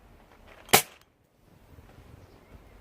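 A Webley Hurricane air pistol fires a single sharp, close shot, a short crisp crack that dies away quickly into quiet room tone.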